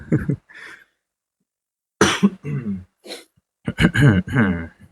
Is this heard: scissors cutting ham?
no